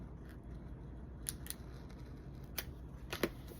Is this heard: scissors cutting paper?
yes